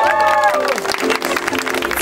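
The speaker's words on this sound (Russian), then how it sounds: "Аплодисменты!" Wedding guests break into applause after the vows, a dense wash of clapping with some crowd noise, while a voice speaks briefly at the start.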